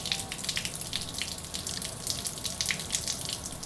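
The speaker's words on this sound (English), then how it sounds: "This is so dry, I don't think the water head will ever actually fill completely up" Water streams steadily from a watering head onto the very dry soil of a potted plant, a close, continuous splashing trickle with no voices.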